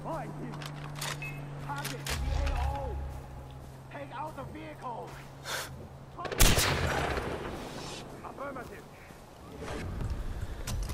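Light machine gun fire in the Far Cry 4 video game, bursts of rapid shots with a louder volley in the middle, mixed with game sounds and someone talking over it.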